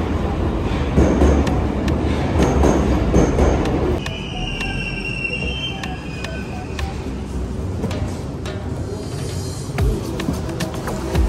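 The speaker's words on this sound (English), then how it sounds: "Train is coming." A train pulls into a station, a loud rolling rumble giving way to a steadier hum with faint wheel squeals and rattling clicks, close and continuous throughout.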